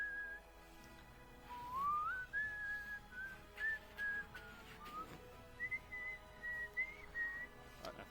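Several people whistle in short melodic phrases at a gaming tournament, the tones rising and holding in bursts, faint and somewhat distant amid a low room murmur.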